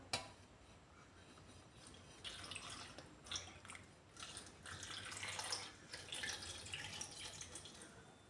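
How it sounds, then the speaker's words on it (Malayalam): Milk poured into a banana shake, a soft liquid splashing and trickling in a few uneven bursts over a quiet background. "പിന്നെ നമ്മൾ അതിലേക്ക് ഇത്തിരി പാലൊഴിച്ച് കൊടുക്കണം."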